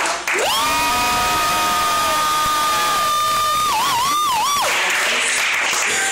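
An audience at a live literary reading event screams and cheers loudly and continuously to vote, with sustained high whoops and shouts rising and falling over a dense crowd roar.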